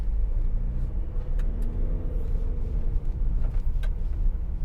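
A 2018 Ford Transit Custom 2.0 TDCi van with a six-speed gearbox pulls away, its diesel engine rumbling low and steady from inside the cab with faint rattles and clicks.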